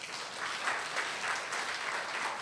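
A church congregation claps together in a steady, moderately quiet round of applause that holds evenly from start to finish, with no voices over it.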